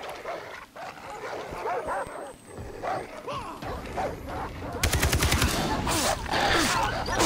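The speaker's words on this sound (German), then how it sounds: "Wie viel fucking Hunde habt ihr?" Several dogs bark repeatedly in the video game Far Cry 3, with sharp yips layered over gunfire that turns into rapid bursts near the end, while a player talks over the action.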